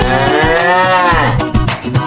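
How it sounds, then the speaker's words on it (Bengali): A cow moos once in a long, drawn-out call that bends in pitch, loud and close, followed by a couple of shorter low grunts, heard alone within a kids' song. "আমার গরু আছে রে"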